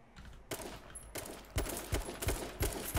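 Gunfire in the battle-royale game H1Z1 King of the Kill: a quiet start, then a string of loud, sharp shots in an uneven rhythm, about seven or eight distinct bangs close together.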